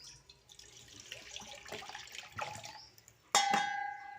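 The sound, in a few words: water being poured while washing in the kitchen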